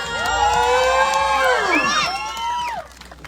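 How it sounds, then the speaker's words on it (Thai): A crowd at an outdoor concert in Ayutthaya, Thailand, featuring male dancers, erupts in high, sliding shrieks and whoops over a bed of noise, loud and close before tapering off near the end. "เสียงปรบมือหน่อยได้ไหมคะ"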